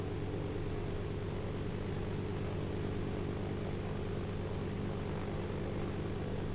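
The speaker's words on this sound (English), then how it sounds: "Doing good, Mr. Airplane." Propeller airplane engine droning steadily in ArmA 2, a constant loud hum with a low rumble that holds the same level throughout, with no voices over it.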